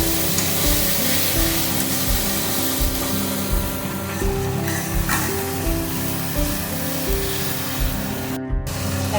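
A turmeric spice paste sautés loudly in a pan, crackling and spattering continuously close by, with rhythmic scraping as it is stirred and a brief clatter near the end.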